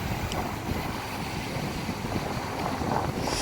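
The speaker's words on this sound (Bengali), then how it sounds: "সমুদ্রের ঢেউ খুব হালকা।" Gentle sea waves wash softly along a sandy beach in a continuous low wash, mixed with steady wind noise.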